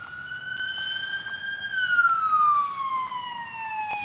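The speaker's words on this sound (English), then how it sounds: "That's fire department or like an ambulance?" A wailing siren sweeps up and then slowly down in pitch, moderately loud and a little distant, with faint background noise.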